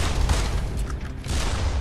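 A loud, rumbling explosion bursts in the roguelike first-person shooter Immortal Redneck, a dense burst of booming noise filling the short clip with no talk over it.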